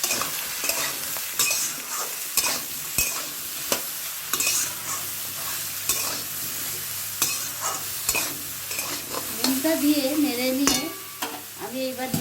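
Drumstick flower curry vegetables with salt stirred in a pan, a spatula scraping and knocking repeatedly over a constant sizzle, close and fairly loud.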